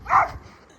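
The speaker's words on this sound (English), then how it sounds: "Alfie, my God, would you stop howling it? It's not even the moon to howl at." A dog gives one short, close howling yelp lasting a fraction of a second, loud at first and then fading quickly.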